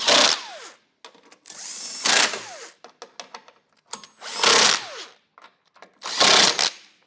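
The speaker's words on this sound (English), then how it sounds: "I'm going to snug it down with that same 17mm socket." Trailer hitch bolts on a 2022 Subaru Ascent are driven down with a power tool and 17mm socket: four loud whirring bursts separated by quiet gaps of clicks and metallic rattles.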